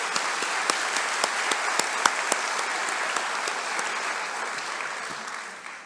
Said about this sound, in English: So I just wanted to give an additional round of applause for you